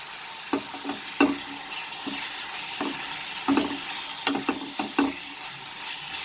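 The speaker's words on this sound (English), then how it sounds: "I will add the sliced tomatoes, 2 dried red chilies" Sliced tomatoes and two dried red chilies frying in a pan for a chicken curry with potato and peas, a steady sizzle with intermittent scraping stirs and spatula clacks.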